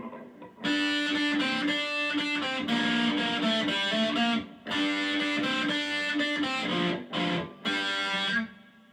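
Heavily distorted electric guitar playing the intro riff of a song in choppy bursts with brief gaps between phrases, loud and close, no voices.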